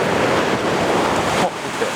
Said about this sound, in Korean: 근데 파도가 진짜 세게 친다